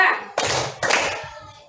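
Children in a classroom clap together in a counting game, two distinct group claps in close succession, loud and near, with a faint trace of voices afterward.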